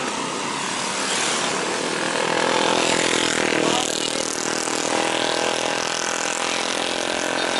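A loud motorcycle engine roars steadily close by, its rough noise swelling briefly in the middle before holding at a high level.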